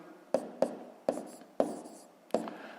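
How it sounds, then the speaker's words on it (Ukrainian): A pen writes numbers on paper in a quiet room, six distinct sharp scratchy taps spaced irregularly, close and fairly faint, with no talking. "ставимо кому і пишемо, що сума у нас дорівнює 13, цілих"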